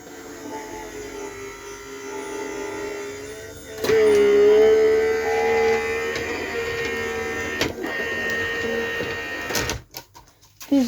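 A die-cutting machine for paper craft runs with a steady mechanical whine and hum that rises in pitch and loudness partway through, then cuts off with a few clunks near the end.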